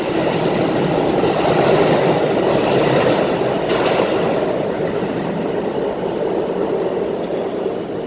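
A subway train rumbles loudly and steadily through the Times Square station tunnel in New York, with a continuous roar of wheels on rails and a brief high squeal partway through.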